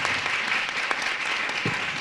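An audience at a conference applauds the guests and panelists, a steady dense wash of clapping from many hands, moderately loud and sustained throughout.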